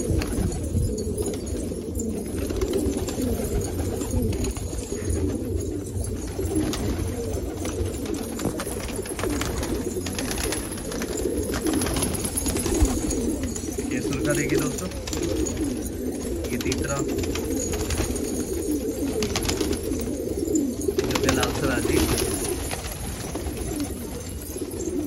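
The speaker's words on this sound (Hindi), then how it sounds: "वाह जी वाह, क्या चौड़ीदार कबूतर है" Pigeons in a loft coo continuously in a dense, overlapping murmur that holds steady throughout, close and moderately loud.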